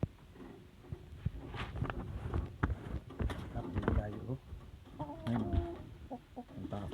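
Chickens clucking and calling close by, with a person talking over them and occasional footsteps or scratching sounds.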